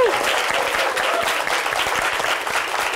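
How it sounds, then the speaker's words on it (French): Audience applause at an evening show welcoming a performer to the stage, a dense, even wash of clapping close and sustained for the whole stretch. "Je vous invite à applaudir et à accueillir Jamal Schle"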